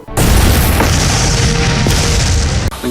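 A film explosion sound effect with debris and dust, a loud, deep, sustained rumbling boom that starts abruptly and fills the whole stretch before cutting off near the end, with no talk.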